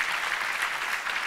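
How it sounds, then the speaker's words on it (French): An audience clapping together in a hall, a brief dense burst of applause heard at moderate distance, steady throughout with no voices standing out. "On pouvait me faire un tonnerre d'applaudissements"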